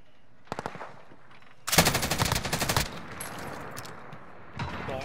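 Rapid automatic gunfire in a Rebirth Resurgence quads video game match: a short burst of shots, then a dense, loud sustained volley lasting about a second, followed by quieter scattered shots and background game noise, with no talking.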